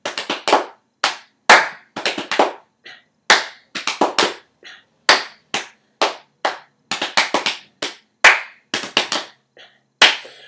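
Hand clapping in bursts of quick claps separated by short pauses, loud and close, keeping time during indoor cycling choreography.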